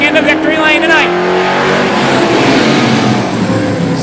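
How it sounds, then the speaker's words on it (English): Vintage stock race cars competing at Star Speedway during a feature race, engines roaring steadily and loud throughout, with an announcer's voice over the top early on. "Janik in the 55 car looking for a way by Chaudier"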